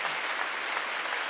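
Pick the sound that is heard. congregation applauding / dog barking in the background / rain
congregation applauding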